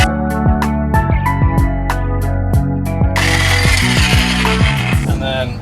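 A power tool cuts through a bolt on a truck crossmember in a garage, with repeated rhythmic whirring pulses and a harsher grinding burst partway through, loud and close.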